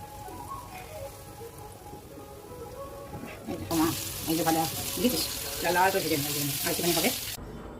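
Chicken pakora pieces sizzle in hot oil over a low flame, a steady crackling hiss that swells louder midway, with faint talk underneath early on.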